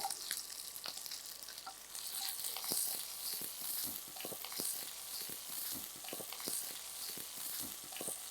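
Cumin, small shallots and dried red chillies fry in groundnut oil for an egg kothu poriyal, a steady close sizzle with crackling pops and a few stirring scrapes throughout, no voices.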